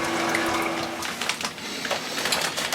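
Hot water pours into a homebrewing vessel while brewing a French-style saison. A continuous rushing, splashing flow stays fairly loud and steady throughout, with no talking over it.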